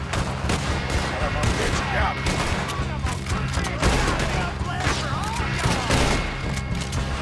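Continuous gunfire in the Red Dead Redemption video game, dense overlapping shots and bursts with booming reports, loud and relentless with music or voices mixed underneath.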